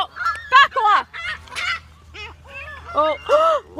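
Park geese honk loudly and repeatedly at close range in harsh, rising calls, with people talking nearby.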